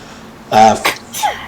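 A single sharp sneeze bursts out close by, followed by a brief breathy catch, against a quiet background.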